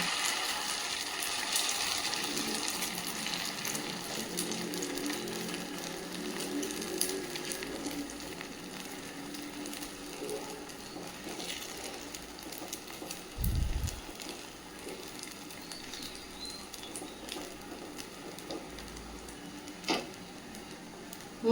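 Rava and potato adai dosa batter cooks in oil on a hot pan, a soft, steady sizzle close by with occasional faint clinks and bumps, no voices.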